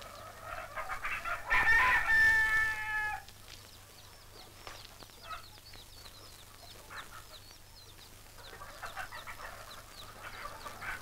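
Hens cluck and chicks peep softly through the yard, with a loud, harsh crowing call bursting out near the start.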